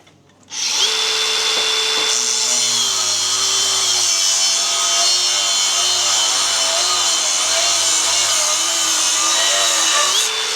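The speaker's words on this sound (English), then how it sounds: "we use like an aluminium TIG rod to take shape of what we want, and then we use the magic bender" A powered bender shapes an aluminium TIG rod into an exhaust hanger for a Volkswagen Scirocco TDI, with a loud, steady motor whine running for about ten seconds and a slight wobble in pitch.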